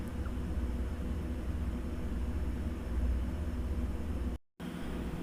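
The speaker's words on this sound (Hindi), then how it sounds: "यहाँ पर देख सकते हैं यहाँ पर थोड़ा ट्रैफिक ज़्यादा है।" Steady broadband roar of busy city road traffic heard while riding a two-wheeler to a food delivery in India, a continuous engine and wind wash with a brief dropout near the end and no voices.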